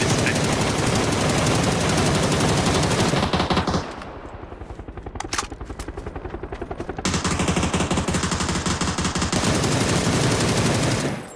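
Automatic gunfire in a first-person shooter video game: long sustained bursts of rapid shots, loud and close, easing into a lighter spray of shots midway, then heavy firing again. No speech.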